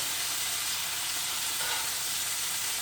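Ground meat browning in a pan for chili with beans gives a steady, close hiss of sizzling fat that carries on unbroken with no talking.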